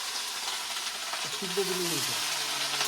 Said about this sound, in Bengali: এদিকে বসিয়েছে আলু আর ভেন্ডি একসাথে ভাজা